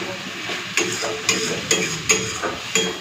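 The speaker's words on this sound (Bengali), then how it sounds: "এইভাবে নাড়াচাড়া করে করে পুরো জলটাকে শুকিয়ে নেব" Kundru (ivy gourd) is stirred in a pan to cook off its water, with a spatula scraping and knocking in a steady rhythm of about two strokes per second over a soft sizzle.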